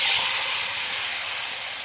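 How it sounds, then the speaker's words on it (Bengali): Boiled taro and potatoes tipped into a hot curry pan, giving a steady loud hiss and sizzle that slowly eases over a couple of seconds. "এবার সিদ্ধ করে রাখা কচু আর আলু দিয়ে দিচ্ছি।"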